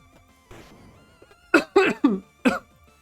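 A person coughs four times in quick succession, loud and close, after a stretch of quieter breathy sounds.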